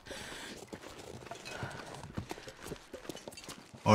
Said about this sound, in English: I don't know if that was footsteps of a deer.